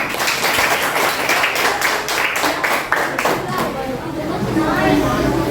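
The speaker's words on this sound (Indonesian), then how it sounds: "Berikan tepuk tangan Anda ya." Classroom audience applauding, dense clapping from many hands running steadily and fairly loud, with background chatter mixed in and fading toward the end.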